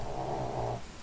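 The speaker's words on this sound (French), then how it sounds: "Désolé pour mon chien, en fait, hein. C'est un très gros ronfleur" Low, rumbling snoring of a dog close by, a steady rasping breath with no voices.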